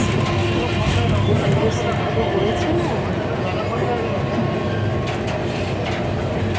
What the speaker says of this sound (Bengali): অনেকদিন পর লোকাল ট্রেনে গেছি দেখো ট্রেনগুলো দারুণ করেছে